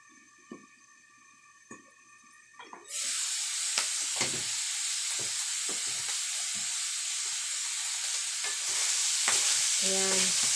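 Ground beef giniling, boiled first and cooked without garlic or onion, sizzles and fries loudly in its own rendered oil, a steady hissing crackle with stirring clinks, starting after a few quiet seconds of faint tapping.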